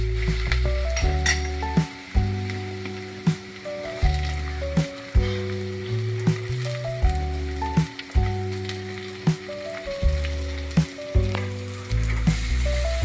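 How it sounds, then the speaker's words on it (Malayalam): Chopped onions sizzle and fry steadily in hot oil in a pan for a pappadam curry, with occasional stirring scrapes and soft background music playing throughout. "എന്നിട്ട് അതിലേക്ക് നമ്മൾ അരിഞ്ഞ് വെച്ചേക്കുന്ന സവാളയും കൂടി ഇട്ട് കൊടുക്കാം."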